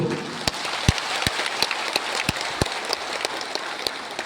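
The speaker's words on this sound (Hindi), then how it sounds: "तो जोर से ताली दो" Crowd applause at a community gathering, a steady wash of clapping with a handful of loud, distinct individual claps ringing out close by.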